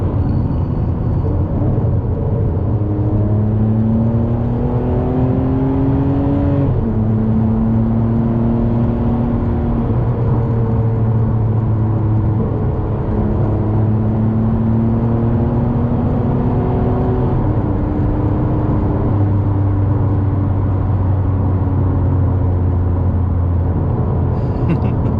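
Ferrari 599 GTB with a V12 engine, heard from inside while driving: a steady, loud engine drone with rising and falling harmonic sweeps as it accelerates and shifts through gears, continuing throughout with no talk.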